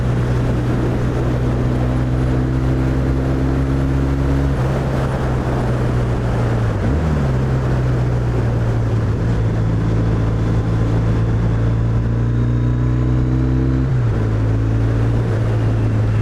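A 2001 Triumph Bonneville motorcycle engine idles steadily with a low droning hum, revving up briefly twice before settling back, heard close with no talk.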